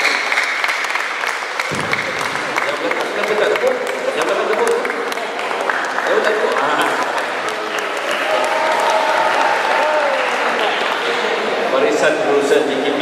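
A hall audience gives sustained applause at a farewell ceremony for a retiring professor, steady dense clapping filling the whole stretch after a brief spoken lead-in, with murmured voices mixed in.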